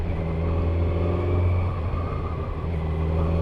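A 2020 Kawasaki Z900 motorcycle cruises in fourth gear just over 2000 RPM, its engine a smooth, steady low drone at constant throttle, close and continuous with no talking.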